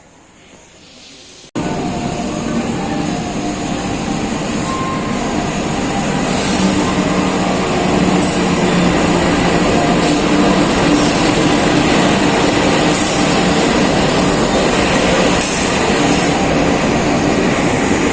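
After a brief quiet moment, the Wijaya Kusuma passenger train arrives at Jember station, a loud, continuous rumble rolling in, steady and close, with metallic squeals rising over the roar.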